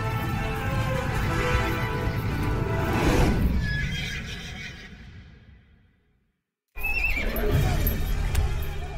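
A war horse neighs loudly in a long, echoing whinny with hoof clip-clop beneath, fading out, then a short silence before another burst of horse sound returns.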